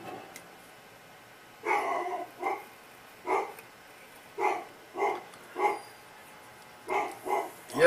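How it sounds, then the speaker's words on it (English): A dog barks repeatedly indoors, about nine single barks at irregular intervals, moderately loud and somewhat muffled as if from another room. "Yes, on occasions you will hear my dog bark."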